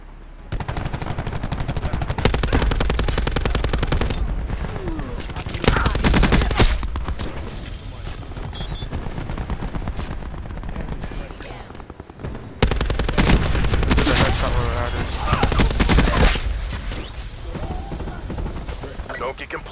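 Heavy automatic gunfire in the shooter Black Ops 4 roars in long, loud bursts, broken by a brief lull mid-way, with explosive booms and a voice talking over parts of the din.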